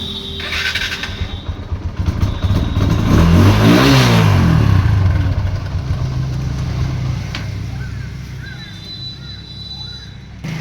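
An old TVS motorcycle engine revs up hard to a loud peak and then settles back toward idle, close to the microphone with no speech.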